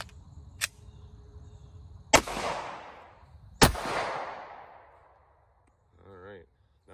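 A 9mm Glock 19 pistol fired into a bag of concrete outdoors: two loud, sharp gunshots a second and a half apart, each ringing out with a long decaying echo, after a fainter earlier crack and before a short voice at the end.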